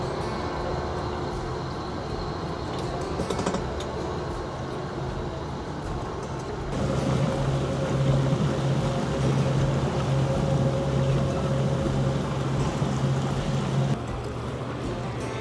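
A towboat's engine drones steadily while underway on a river, towing a 90-foot motoryacht up toward the St. Lucie locks; the hum is continuous and close, growing louder and more strained midway, then easing slightly near the end.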